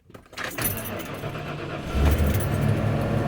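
A van with about 257,000 miles and a check engine light on starts up after a brief rattle of keys, the engine catching and settling into a steady, fairly loud idle nearby.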